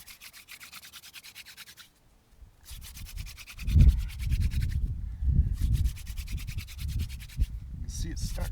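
A wooden spindle twirled between the palms against a wooden fireboard for a friction fire, giving rough back-and-forth rubbing and grinding in bursts, with a brief pause early on and steady close scraping strokes after.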